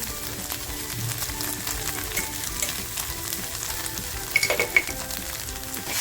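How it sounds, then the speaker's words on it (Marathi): Masala for mutton thecha fries in a pan with a loud, steady close-up sizzle and crackle, stirred now and then with a few scraping clinks, and no voices. "बघा आपला मसाला असा छान फ्राय झाला आहे"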